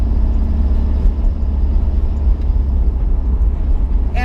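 An LS-swapped Nissan 350Z driving with a smoke fault under acceleration, its engine a loud, steady, close rumble with dense low drone throughout and no talk.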